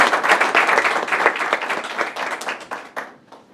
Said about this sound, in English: Nice warm round of applause.